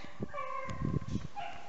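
Hounds running a hare track at a hare club, giving short yips and whimpering bay notes in scattered bursts at moderate distance over a faint outdoor background.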